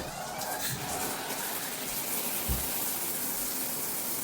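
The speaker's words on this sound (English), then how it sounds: "So let's turn it on with the rain shower head on." Water from a high-pressure rain shower head sprays in a steady, dense hiss with a faint low thump partway through, no voices.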